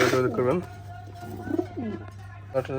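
Giribaz pigeons, many of them white, coo softly several times at a pigeon sale, with a steady low hum underneath and people talking faintly nearby.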